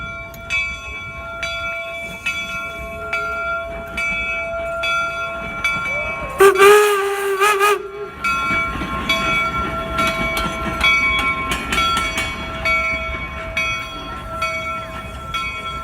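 The Jupiter steam locomotive rumbles close by with clacking wheels and ringing tonal hums at a Transcontinental Railroad 150th anniversary reenactment, a brief squeal of brakes midway, then continues rolling and slowing to a stop.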